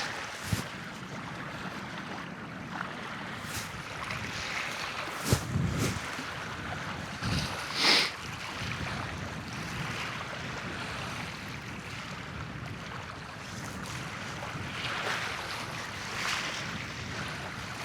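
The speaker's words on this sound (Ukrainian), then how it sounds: "Вітер все здуває" Strong wind roars steadily with gusty surges and rumbling buffeting on a sandy fishing spot, broad and continuous throughout, with a few sharp knocks; no talking.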